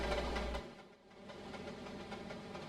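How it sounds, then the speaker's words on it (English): Short manifest freight train climbing a grade in the Trainz game, a quiet, distant engine drone with faint rhythmic rail clatter, a sharp burst at the very start. "the relatively short manifest train makes its way up the grade"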